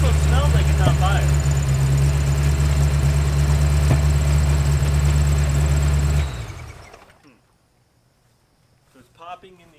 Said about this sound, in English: So it's popping in the exhaust.